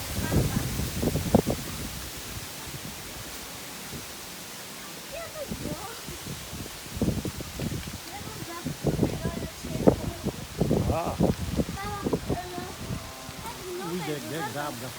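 Heavy rain pours down during a village storm, a steady broadband hiss with wind in the trees, while voices talk loudly over it throughout.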